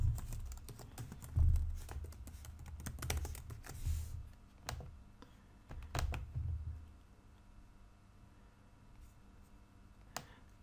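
Close computer keyboard typing comes in irregular bursts of clattering keystrokes, mixed with a few sharp mouse clicks, then thins to scattered clicks toward the end, with no talk.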